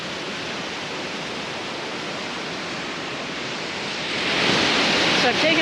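Steady broadband rush of the Seven Sisters waterfalls on Grenada, close by and continuous, swelling louder near the end as if nearing the falls.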